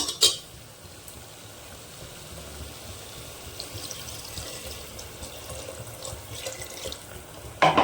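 Water pours steadily into a pot of egg and potato curry, a continuous running splash lasting several seconds, with a brief clatter at the start and end.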